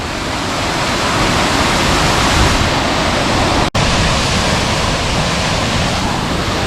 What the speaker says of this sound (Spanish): bueno, espectacular la cascada